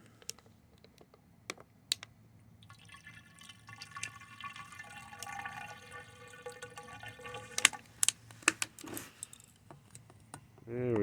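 A part from a Ridgid cordless vacuum is dunked into water, giving soft gurgling and bubbling over several seconds among scattered clicks and light handling knocks, fairly quiet and close.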